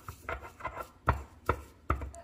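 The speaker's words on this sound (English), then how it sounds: "I'm going to grind and break this apart" Dried Mexican oregano is crushed in a pestle and mortar, giving about five muffled, close pounding thuds with short gritty grinding between them, fairly quiet.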